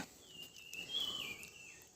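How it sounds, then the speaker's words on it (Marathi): A thin, high bird chirp rises and holds over a soft, steady outdoor hiss, moderately distant, with faint rustling underneath. "पक्ष्यांचा आवाज किलबिलाट"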